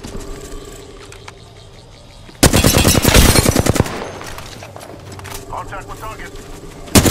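Automatic gunfire in the Apex Legends battle royale game on PS4 erupts as a loud, dense burst of rapid shots lasting over a second, over quieter game sounds and in-game voice lines.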